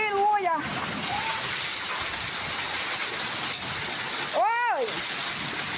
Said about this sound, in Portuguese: tá chovendo gelo